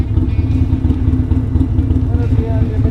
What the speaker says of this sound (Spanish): Y ahorita estoy llegando a echarle gas a mi moto.